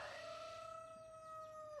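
A rooster crows in one long, drawn-out call that holds steady and then tails off, fairly close and alone with no talk.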